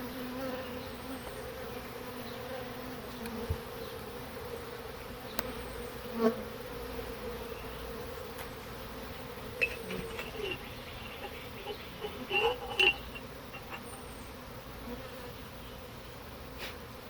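Steady low insect buzzing from many honeybees, mostly nurse bees, continuous throughout, with a few louder passes of individual bees droning close by.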